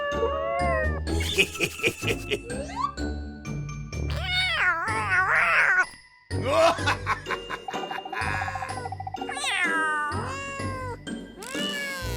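Several cats meowing and yowling in overlapping, drawn-out cries, close and loud, with a brief pause midway before the calls resume.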